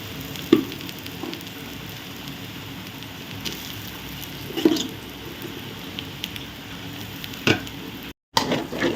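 Cooked rice is tipped into a hot pan for spicy egg masala rice and stirred, giving a low, steady sizzle with intermittent soft squishes, spatula clinks and scraping, ending with a brief gap.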